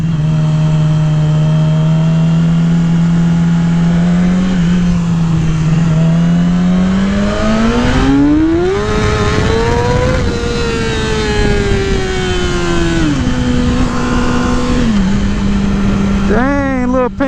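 A Yamaha R6 600cc sport motorcycle engine revs loudly and continuously up close. Its tone climbs as it accelerates, holds high, then eases back down before a final sharp blip.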